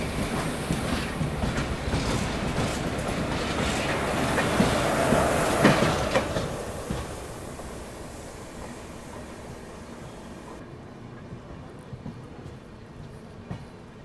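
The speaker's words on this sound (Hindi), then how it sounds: "बाकी अपनी ट्रेन पहुंच रही है लोनावाला" The Indore Daund Express rolls into Lonavala station, its wheels rumbling and clattering steadily with a few faint squeals, loudest midway and then easing as the train slows, heard from on board with no talk.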